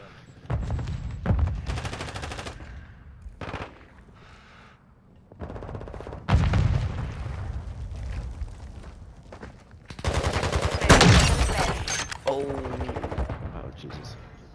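Bursts of automatic gunfire and single shots ring out in Call of Duty: Modern Warfare II multiplayer, loud and close, coming in irregular clusters with short pauses and a heavier barrage near the end, with faint voices at times.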